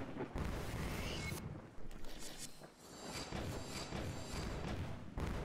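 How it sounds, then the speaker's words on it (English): Pirate ship cannon fire in the video game Ocean's Heart, repeated heavy booming thuds and rumbling blasts in close succession over a dense, noisy background. "He's throwing cannon fire everywhere."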